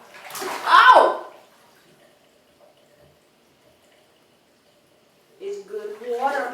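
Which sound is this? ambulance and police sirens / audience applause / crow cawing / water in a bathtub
water in a bathtub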